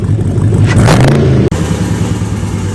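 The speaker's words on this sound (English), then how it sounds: "Rev it one more time." A 1985 Jeep CJ7 with an LS engine swap revs loudly up close, climbing sharply to a peak, then dropping back to a steady rumbling idle.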